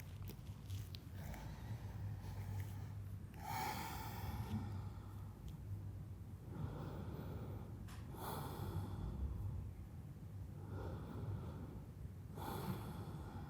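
Slow, deep breaths during a held yoga stretch, drawn in and let out in about four soft, even cycles of rushing air over a low steady hum.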